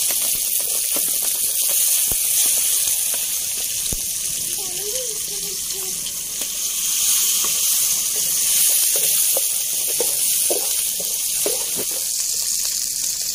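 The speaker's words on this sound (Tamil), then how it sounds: "மிளகாய் நல்லா சவந்துட்டு இப்போ வந்து வெங்காயம் போட்டுக்கலாம்." Onions and green chillies sizzle in hot oil in a pan for kutal kulambu, a steady close hiss of frying with occasional crackles and light stirring clinks.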